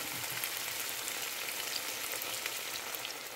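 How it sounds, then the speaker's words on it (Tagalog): Eggs for scrambled egg sizzle and crackle steadily in a pan, a dense continuous frying hiss with no talking. "ilagay na natin yung itlog po natin dyan sa kawali"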